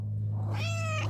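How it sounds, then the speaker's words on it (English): A rescued mother cat gives one short, clear meow at close range over a steady low hum in the background. "Mama Kitty, say hi to YouTube."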